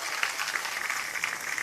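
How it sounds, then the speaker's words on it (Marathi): Large crowd applauding at an outdoor protest rally in Nanded, a dense, steady roar of clapping that holds at full strength throughout with no break. "त्या बाबासाहेबांच्या नातवासाठी एकदा जोरदार टाळ्या होऊ द्या"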